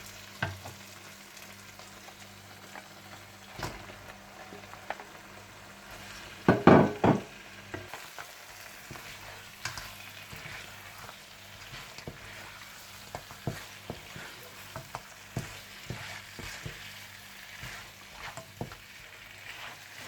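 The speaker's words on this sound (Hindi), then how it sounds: "दही मिलाने के बाद आप इसमें मटन चाप्स डालकर अच्छी तरह से भून लें" Mutton chops frying in yogurt masala in a karahi, giving a soft continuous sizzle with occasional scrapes and clatters as they are stirred, and one louder burst of spattering partway through.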